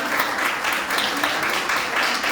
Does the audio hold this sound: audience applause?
yes